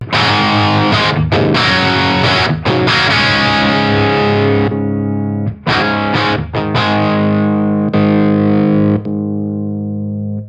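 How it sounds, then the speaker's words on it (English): A heavily overdriven electric guitar plays crunchy chords and riffs through an Alta100 amp on its aggressive Bright 2 setting, an early-70s plexi-style tone, loud and sustained with brief pauses between phrases. "Bright 2 is far more aggressive, and you'll hear this start to sound like a good old-fashioned early 70s plexi."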